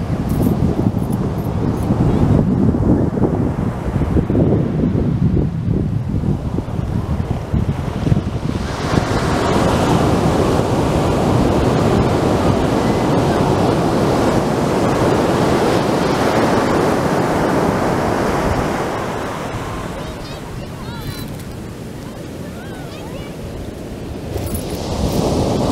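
Ocean waves roll onto the coast at Muir Beach in a loud, broad surf wash with heavy wind buffeting the microphone. The roar swells and recedes, then eases toward the end.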